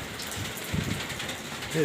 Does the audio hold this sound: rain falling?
yes